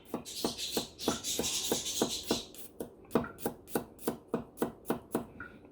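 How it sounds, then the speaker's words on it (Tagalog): Fresh ginger being minced with a knife on a cutting board, quick rhythmic chopping taps, close and fairly soft, with a brief rustling scrape in between. "Mince, or ganyan ang paggayat ng luya."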